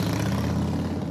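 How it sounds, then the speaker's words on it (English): A popular American motorcycle engine idles with a steady, low, rumbling throb, close and continuous through the short moment. "This is the sound of a popular American motorcycle."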